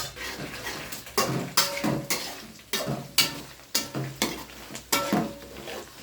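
Food seasoned with turmeric and salt sizzles in a pan, with regular close spoon strokes scraping across the metal in an even rhythm over a constant frying hiss, and no talking.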